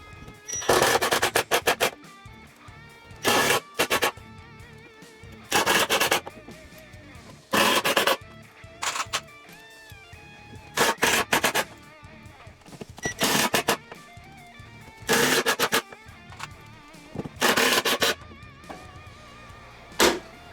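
A drill drives 1.5-inch wood screws into a wooden box for a mink, in about nine short, loud, buzzing bursts separated by quiet pauses.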